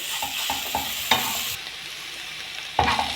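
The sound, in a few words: garlic sautéing with onions in oil and ghee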